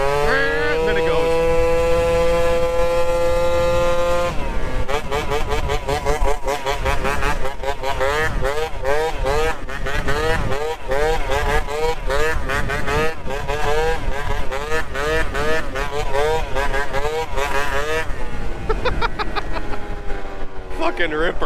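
A modified moped engine, fast enough for over 65 mph, sputters and bogs down low before surging into a rising, buzzing acceleration. The revving stays loud and close, with rapid pitch swings throughout.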